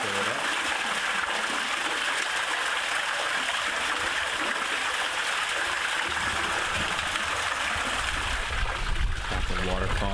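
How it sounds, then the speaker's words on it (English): Light running water splashes and trickles steadily into a custom above-ground pond nearby, a continuous soft wash with a brief louder splash near the end. "Got the water falling lightly"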